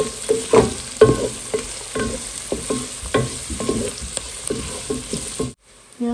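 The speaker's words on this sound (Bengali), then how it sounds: "তেল আর পেঁয়াজ অলরেডি দিয়ে ফেলেছি, তো এখন আমি দিয়ে দিলাম আস্ত মশলা।" Whole spices and onions frying in oil, a loud steady sizzle broken by repeated scraping and knocking strokes of a stirring spoon, ending in a sudden short silence.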